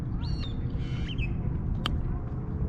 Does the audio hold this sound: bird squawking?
yes